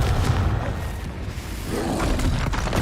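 Bombarda spell explosions from Hogwarts Legacy, a dense continuous rumble of booming blasts and thuds with no clear gaps, loud and close, layered with magical effects and no voices.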